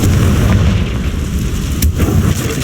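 A Confringo fire-blast spell explodes in Hogwarts Legacy, a loud sustained rumbling boom with a sharp crack near the end, dense low-end blast noise filling the whole moment without any talk.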